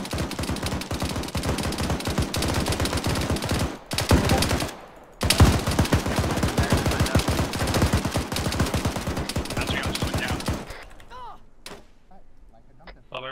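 Gunfire in the military shooter ArmA 3 crackles in rapid automatic bursts, loud and dense, with a short pause, another long burst, and then a quieter tail of scattered sounds.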